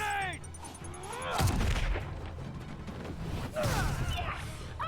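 A grenade goes off during a heist fight in a Spider-Man video game. Two heavy booming blasts land amid chaotic combat noise, with voices shouting over them.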